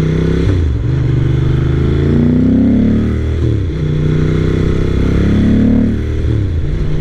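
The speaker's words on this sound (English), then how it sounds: "Got that classic Ducati sound, got the dry clutch." A 1995 Ducati 900 SS motorcycle with a dry clutch, loud and close, revving up through gears with rising engine tones and brief dips between shifts.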